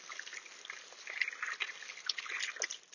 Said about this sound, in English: put some water in the bird bath first, though.